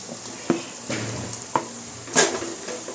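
Tomatoes sauté in a pan while a spoon stirs them, a soft continuous sizzle broken by about four distinct scraping clinks against the metal, close and quiet.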